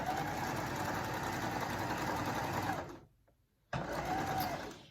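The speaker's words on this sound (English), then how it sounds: "And then you're just gonna sew." A sewing machine stitching a fabric scrub cap hums steadily and close, stops for a brief pause, then starts running again.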